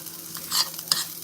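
Hash browns fry in a pan, giving a short, soft sizzle broken by a few quick scraping stirs, close by with no talking.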